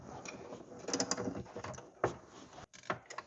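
A ratchet fitted with a deep well socket loosening a bolt on a golf cart during a lithium battery conversion, a series of close clicking ratchet strokes with short pauses between them and no talking.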